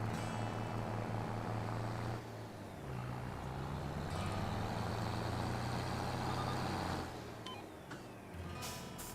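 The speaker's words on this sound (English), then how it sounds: "I think this tractor sounds real good. It's one of the new Mercedes that came out." A new Mercedes tractor engine in the video game Farming Simulator 25 drones steadily with a low, slightly shifting hum, loud and continuous, with brief changes in pitch as it works.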